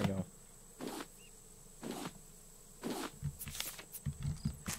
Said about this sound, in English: Alright, I saw the bees.